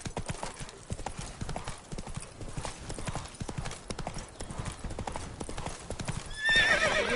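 Roach, a horse in The Witcher video game, trotting with a steady, rhythmic clip-clop of hooves throughout, ending in a sharp whinny.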